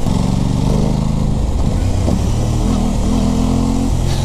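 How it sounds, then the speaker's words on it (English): A 2021 Aprilia Tuono 660 motorcycle rides in fourth gear on a California highway, its engine a steady, loud drone with small shifts in pitch over continuous wind and road roar. "This bike in fourth gear on the highway, it's like perfect for what you need."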